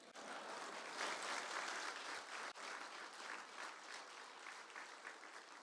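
An audience applauds steadily at an honorary doctorate conferral ceremony marking a university's 55th anniversary, with dense, continuous clapping that sounds somewhat distant and keeps up for several seconds.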